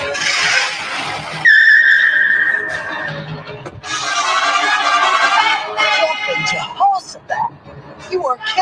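Cartoon rush-hour traffic in a city, with loud tire squeals and skidding cars in sharp bursts, a long high screech followed by more clustered skids, all under excited cartoon voices.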